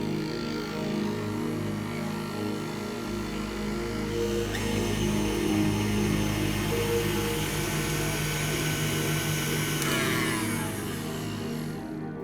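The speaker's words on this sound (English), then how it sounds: "I'll get that started on the mixer." A stand mixer hums continuously as it kneads wholemeal flour dough for vegetarian potsticker dumplings, a steady close motor drone with slight pitch shifts and no talk.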